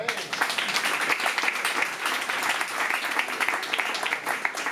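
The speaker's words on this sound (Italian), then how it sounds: "Grazie Ivo, un applauso." Steady applause from a sizable crowd, dense continuous clapping that holds at an even level throughout.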